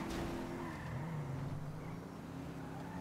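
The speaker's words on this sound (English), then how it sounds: "I have a car coming out of movie studios." A car driving in GTA V, a steady engine drone with shifting pitch, faint and continuous, without talking.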